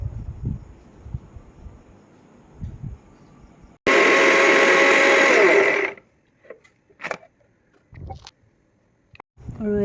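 An electric blender roars loudly for about two seconds as it grinds tomatoes into a paste for chicken pulao, starting and stopping abruptly, with talking before and after.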